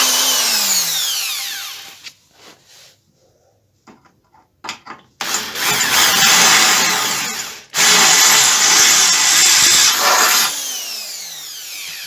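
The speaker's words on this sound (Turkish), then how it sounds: "Matkabımıza demir delme ucunuzu taktık." A power drill fitted with a metal bit whines in loud bursts with a quiet pause in the middle, the bit grinding steadily through metal close by.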